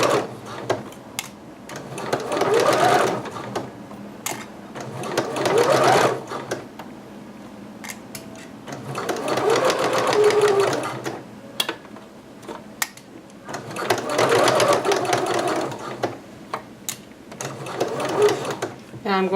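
A sewing machine stitches fabric in several bursts of steady whirring a few seconds long, separated by pauses, while someone talks throughout.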